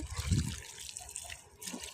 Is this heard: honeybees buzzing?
no